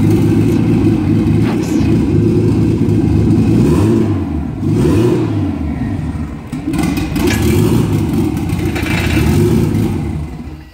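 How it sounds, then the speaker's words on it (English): A Nissan RB25 engine in a Locost kit car runs without an exhaust, loud and close, revving up and down several times in rough, lumpy bursts before falling back to a raw idle. "Let me just start it up now quickly and I'll show you. It's a bit noisy."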